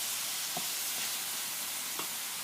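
Garlic, Italian herbs and garlic salt sizzle steadily in a hot pan while spaghetti is being made, a continuous close frying hiss with a few faint stirring taps and no talking.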